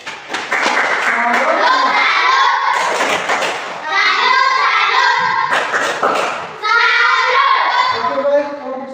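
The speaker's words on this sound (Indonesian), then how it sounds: "Anak-anak, mari kita beri tepuk salut untuk kelompok 1." A classroom of children clap together in a rhythmic salute for a discussion group, three bursts of loud, patterned clapping mixed with young voices and a teacher talking.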